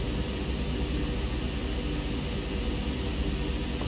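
Simulated aircraft engine in Microsoft Flight Simulator 2020 hums as a steady, even drone while taxiing, with a constant broadband whoosh and no talk over it.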